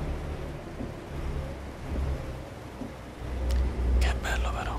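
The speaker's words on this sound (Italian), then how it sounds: "questa pioggia continua a battere, mi piace molto." Rain and thunder in the truck-driving game American Truck Simulator, a steady wash of rain with low rumbling thunder swelling louder near the end, faint whispered speech drifting over it.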